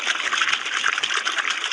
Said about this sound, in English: the sound of running water in a drought-parched landscape is from burst pipes